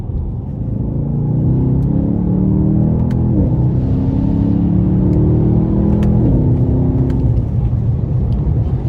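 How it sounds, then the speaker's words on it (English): A 2020 Mercedes-Benz S63 AMG accelerates hard from inside the cabin, its exhaust giving a deep, loud, steady roar that climbs in pitch through two gear changes, with no talk over it. "And that exhaust just sounds so amazing."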